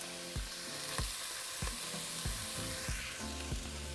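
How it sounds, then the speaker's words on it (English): Ground beef browns in a hot pan, a steady sizzling fry cut by about eight regular scraping thumps as the meat is stirred and broken up, close and fairly quiet. "And now we're just going to brown our meat."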